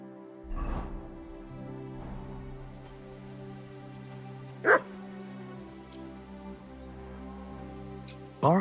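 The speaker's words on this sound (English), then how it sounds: "Barking." Dog barking in the medieval game Kingdom Come Deliverance 2, two sharp barks standing out over steady game music, the first near the start and the second at the very end.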